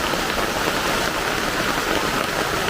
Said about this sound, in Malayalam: മഴ തുടങ്ങിയിട്ടുണ്ട്.